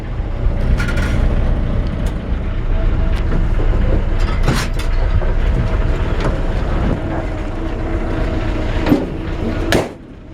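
A 1965 Ford F100 lowrider truck rolls along and comes to a stop, its engine rumbling low and steady throughout with wind buffeting the microphone, fading slightly at the end.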